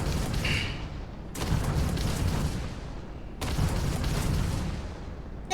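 Starship particle weapons, missiles and lasers firing together in Starfield, two heavy booming blasts each trailing a long rumbling decay, loud and close, with no talk.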